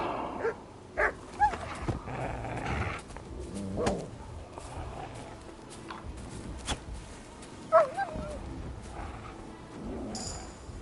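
A creature growls in the medieval video game Kingdom Come Deliverance 2. Intermittent low, dog-like growls and yips come with rumbling thuds and brief louder bursts over a dim background.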